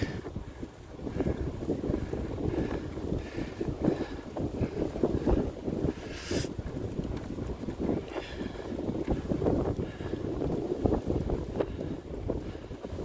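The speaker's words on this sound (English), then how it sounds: "The wind is getting stronger." Strong wind roars steadily into the microphone while riding a bicycle through open Dutch countryside, a dense continuous buffeting with no talk.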